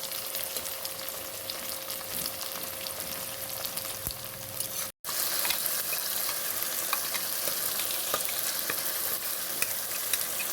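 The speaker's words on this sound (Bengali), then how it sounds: "পেঁয়াজটা লাল লাল করে ভেজে নেব।" Onions fry in hot oil in a pan, giving a steady crackling sizzle with scraping stirs, briefly cut off midway before the frying resumes just as loud.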